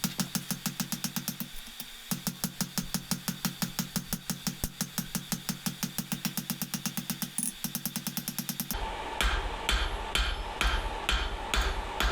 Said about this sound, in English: I am just going to forge around and find out